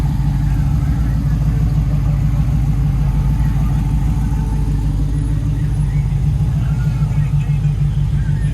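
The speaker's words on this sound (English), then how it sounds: "This Nova sounds like it has an Ellis motor in it." A Chevrolet Nova with a Powerglide transmission idles at a Huntington Beach cars-and-coffee show, a steady low rumbling engine note holding even throughout, close and loud.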